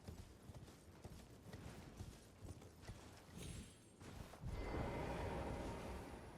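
A horse's hooves galloping in Elden Ring, steady rhythmic clip-clop under light game ambience, growing louder and denser near the end, with no one talking.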